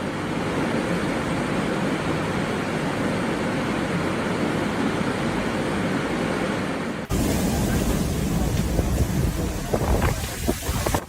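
A severe storm microburst lashes with driving wind and rain, a loud, continuous broadband roar that shifts abruptly in character partway through and stays heavy to the end.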